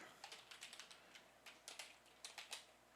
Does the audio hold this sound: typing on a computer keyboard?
yes